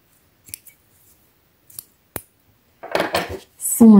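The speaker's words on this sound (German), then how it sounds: "Und den Faden schneide ich jetzt ab." Scissors snip crochet thread in a few quiet, isolated clicks and a crisp cut, followed by soft handling sounds and a brief bit of background noise at the end.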